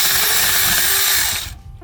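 Mini hand saw cutting, a loud, close, continuous rasping stroke lasting about a second and a half before it stops abruptly, with no talk.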